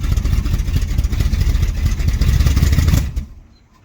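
Dodge street van engine with a custom side pipe exhaust, idling and rumbling loud and close with a steady throb, then cutting off abruptly near the end into silence.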